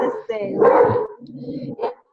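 A small pet dog lets out a few short, close barks and yips, mixed in with a person talking.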